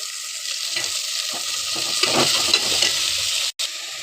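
Washed cauliflower dropping into a pan of frying onions for a curry produces a loud, steady sizzle with stirring scrapes and a brief cut near the end.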